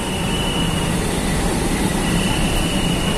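The Harina passenger train in Indonesia at a station makes a steady, loud rumble of rolling railcars with a faint high squeal over it, continuous throughout.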